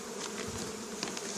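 Honeybees hum steadily at a hive beside an apple tree, a dense, even buzzing heard close up with no voices.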